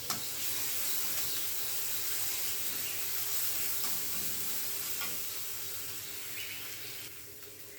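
Ginger, garlic and cloves frying lightly in a pan for a capsicum pepper chicken fry, a steady close hiss of sizzling oil that fades slightly toward the end, with no talk.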